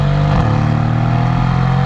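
A 2021 Mercedes-AMG C 63 with its V8 engine, 503 horsepower, revving loud and close, a deep rumbling roar with a brief pitch shift early on before settling into a steady throaty drone.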